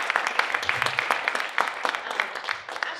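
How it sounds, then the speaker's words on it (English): Audience clapping at a Book of Mormon art contest reception, a steady patter of many hands with crisp individual claps, close and moderately loud, continuing for a few seconds with no voices over it. "Let's give Ashley a round of applause."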